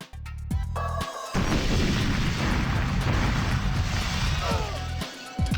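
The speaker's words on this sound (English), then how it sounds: "I plant those mines there specifically so that they blow up the terminals and the guards standing above them at the same time" Mines detonating in the N64 shooter GoldenEye 007, blowing up computer terminals and guards: a loud sustained blast of rumbling explosions and debris lasting several seconds, bracketed by brief game sounds at the start and end.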